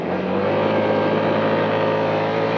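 A 2025 Can-Am Outlander 1000R XT-P ATV in sport mode accelerates hard, its engine drone loud and steady, rising slightly in pitch throughout, with no talking.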